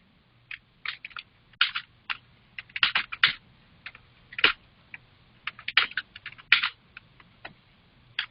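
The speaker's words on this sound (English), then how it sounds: "I'm typing something wrong." Typing on a computer keyboard during an Excel-to-Eclipse data test: irregular bursts of close, crisp key clicks over a low steady hum, with short pauses between runs.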